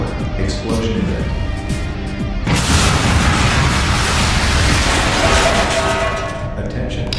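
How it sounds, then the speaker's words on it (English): A reactor explodes in the thermal power plant of the Innovations Inc. video game, a sudden loud blast that swells into a sustained, rumbling roar over a steady background hum. "Extreme pressure buildup in coolant laser line. Explosion imminent."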